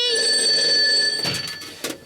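A telephone rings loudly with a sustained electronic bell tone on a comedy quiz stage show, then cuts off as audience noise and movement follow.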